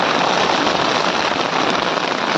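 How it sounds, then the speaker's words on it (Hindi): Heavy rain pouring hard outdoors, a dense, loud, continuous hiss of falling water with no pauses and no voices over it. "बारिश पूरा एकदम जोर से आ रहा"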